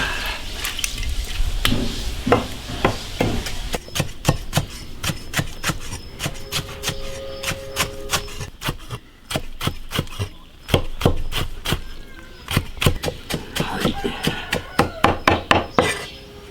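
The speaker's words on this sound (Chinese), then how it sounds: "把盐菜切碎。" Knife chopping salted pickled vegetables on a board for Sichuan pickled-cabbage fish, a steady run of sharp, close, rapid strokes with brief pauses, continuing throughout with little talk.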